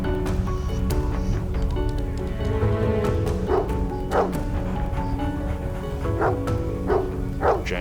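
A Labrador barks in sharp, repeated bursts at close range during a nighttime house fire, with steady background noise underneath.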